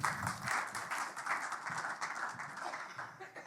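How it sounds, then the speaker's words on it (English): Audience applause at a health tech startup pitch finals, a steady patter of many hands clapping at moderate level for about three seconds, with no talk over it. "Big applause for Claudio"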